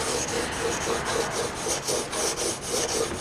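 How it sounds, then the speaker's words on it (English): Steel chisel rubbed back and forth on sandpaper for sharpening, a quiet, rhythmic scratchy rasp repeating about every quarter second, with no voices. "you can always use that scary sharp method, just using the sandpaper"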